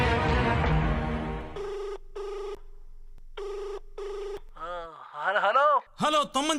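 A telephone is dialed and rings for a phone-a-friend call during a quiz segment at a stage event in Dubai. A burst of dial tones is followed by three evenly spaced ringback tones, then a voice comes on over the line.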